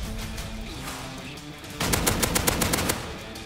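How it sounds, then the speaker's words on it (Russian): Rapid automatic gunfire from the video game Rust, a loud burst of shots that starts midway and continues steadily over steady background noise, with no talking. "А вы стреляете, слышишь?"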